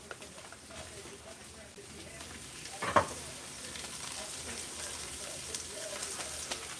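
Breaded pork chops frying in butter in a pan, a steady soft sizzle throughout with one brief louder clatter near the middle, fairly quiet and close.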